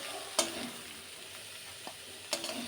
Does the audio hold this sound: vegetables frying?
yes